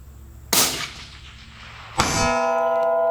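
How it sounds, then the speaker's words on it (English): A rifle bullet striking a steel target at 400 yards on a long-range shooting range: two sharp, loud metallic impacts about one and a half seconds apart, the second leaving a bright, sustained ringing tone. "see if I can't get that steel in the noggin at 400 yards"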